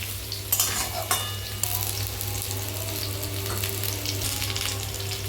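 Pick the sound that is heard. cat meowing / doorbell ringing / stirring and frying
stirring and frying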